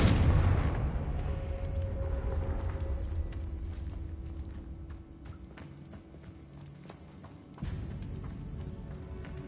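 A Confringo fire spell goes off in the Hogwarts Legacy video game with a loud, booming blast right at the start. It fades into a low, lingering rumble, and a second heavy thud lands near the end.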